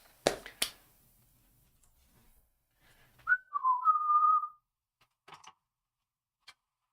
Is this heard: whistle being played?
yes